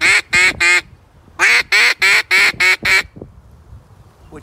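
A handheld duck call imitates quacking in two loud, close bursts: three quick raspy quacks, a pause, then a longer run of six, all with no talking.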